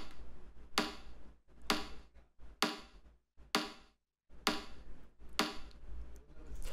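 A resonant percussion layer of a clap sample for UK bass repeats as sharp, bright hits in a loose rhythm, with short decays and a brief gap before the pattern resumes.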